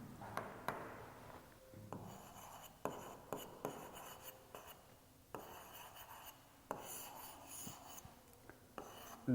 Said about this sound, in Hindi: अब इसको लिखना पड़ेगा स्टूडेंट